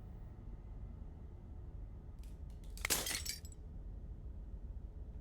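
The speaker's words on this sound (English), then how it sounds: "As the final fragment of glass shatters" Glass shatters in a single sharp burst in the video game Slay The Princess, a bright crash with a brief tinkling tail, heard alone over a steady low rumbling ambience.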